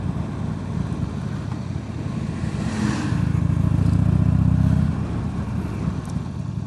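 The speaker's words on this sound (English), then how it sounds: "knocked out the baffles on the exhaust on that" A Honda Melody scooter with its exhaust baffles knocked out, a loud rasping engine drone that swells as it revs and then eases back, close by with no talk.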